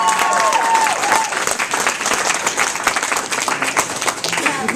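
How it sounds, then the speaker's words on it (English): A crowd applauds loudly and steadily, dense clapping filling the whole stretch without a break. "he deserves a huge round of applause"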